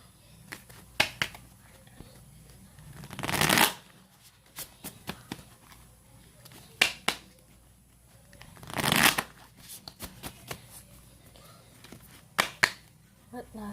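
A deck of oracle cards being shuffled by hand, two long riffling bursts separated by scattered sharp card taps and snaps, close and fairly quiet with no talk.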